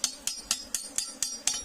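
A hammer strikes a workpiece in an even rhythm, seven sharp metallic blows about a quarter second apart, close and clear with no talking.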